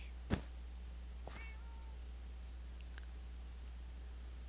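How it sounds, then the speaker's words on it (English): A cat meows a few times indoors, a short sharp cry followed by a drawn-out meow and a faint later call, quiet over a steady low electrical hum. "I'm being serenaded by the kitty while I work."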